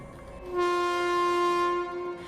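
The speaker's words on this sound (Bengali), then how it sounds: "এমন সময় ভোরের ট্রেনটা চম্পাহাটি থেকে ছাড়বার শব্দ হলো।" A morning train pulling out of a station sounds a long, steady, loud horn that holds for well over a second and then fades, used as a sound effect in a village horror story, with no talking.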